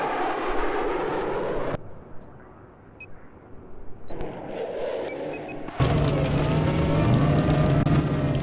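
A jet aircraft in Battlefield 4 roars loudly, cutting out abruptly into quieter rushing noise with faint beeps, then surging back to a powerful, steady engine drone.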